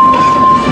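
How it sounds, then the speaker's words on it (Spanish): A cartoon steam locomotive, Edward from Thomas and Friends, rolls in on the rails, a loud, brief rumble of a train with a steady high tonal whine over the clatter. "Edward llegó echando vapor."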